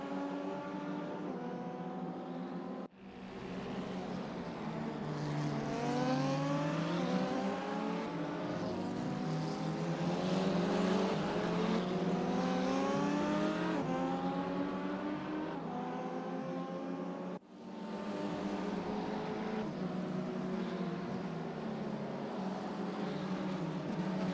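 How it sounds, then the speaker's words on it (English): Two KTM GT4 race cars battle around the Portimao circuit, their engines revving and rising through gear after gear in a steady, moderately loud drone with brief dips at the shifts. "A couple of KTM cars battling it out."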